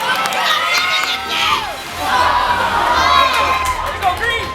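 Hockey fans in a packed arena cheer and shout, a loud sustained crowd roar with high excited voices and chant-like swells, children's yells standing out near the end.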